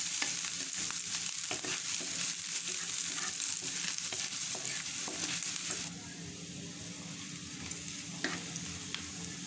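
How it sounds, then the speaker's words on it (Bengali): Onion fries in a pan while it is stirred, a dense continuous sizzle with scattered scraping ticks from the spoon. The hiss steps down slightly partway through and continues more softly. "পেঁয়াজটাকে দিয়ে একটু নেড়ে চেড়ে দিতে হবে।"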